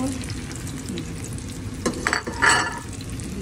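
Tortang talong, an eggplant omelette with egg, fries in a pan with a continuous soft sizzle, broken by a few brief scraping stirs and louder spatters partway through.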